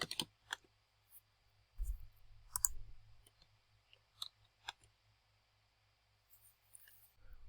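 Scattered soft clicks of a computer mouse and keys at a desk, a few isolated taps spread over several seconds, quiet and close.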